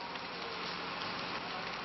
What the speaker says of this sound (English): The volunteers are coming to dread the wet season as the rain continues to fall.